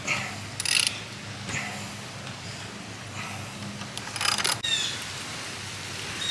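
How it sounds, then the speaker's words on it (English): Ratchet driving a lag bolt into a wooden leg of a knife and axe throwing target stand, close bursts of quick clicking strokes separated by pauses, over a steady background hiss. "now we're getting ready to screw our lag bolt into this leg to connect the 2 together"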